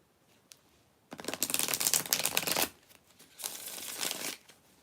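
Tarot cards shuffled by hand: two close, crisp bursts of riffling and flapping, the first longer and louder, separated by a short pause, with no talking.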